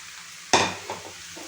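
A spoon stirs 400 grams of sliced button mushrooms into fried onions for butter garlic mushrooms, giving one sudden loud scrape and sizzle, then a softer scrape that fades.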